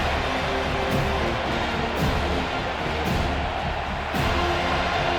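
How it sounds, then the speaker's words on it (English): Stadium crowd at a college football game, Boston College against Florida State, roaring steadily through a third-down defensive stand, a dense continuous wall of cheering with periodic swells, loud and close throughout. "Decibels rising as the crowd gets behind this defense on 3rd down"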